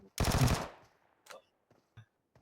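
A short burst of automatic gunfire in the mobile battle royale game PUBG Mobile, one loud rapid volley followed by a few faint isolated shots.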